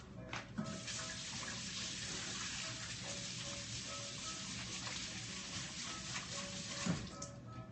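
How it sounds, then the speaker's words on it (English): Steady running tap water with soft splashing as hands are washed under it at a sink, a close, even hiss with no talking. "let me wash my hands again."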